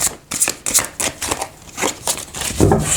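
Tarot cards being shuffled by hand, a series of crisp riffling bursts in a steady rhythm, close and fairly loud with no talking.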